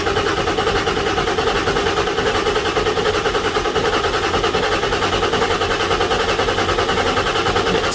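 Ford 7.3 Powerstroke diesel engine with a KC300X turbo and 160/30 injectors cranking over steadily, a loud continuous mechanical churn that holds without a break for the whole stretch.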